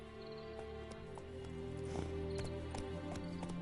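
Horse hooves gallop in The Witcher 3 with a steady clip-clop rhythm over ambient game sound and soft music.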